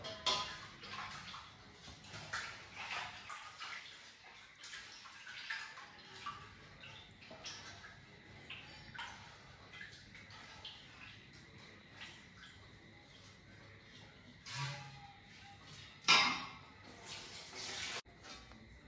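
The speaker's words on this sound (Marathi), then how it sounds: "त्यासाठी आम्ही तांदूळ धुवत आहोत" Rice being washed by hand in water at home, with soft sloshing, splashing and dripping, plus occasional clinks of a vessel, moderately close and continuous with no talk.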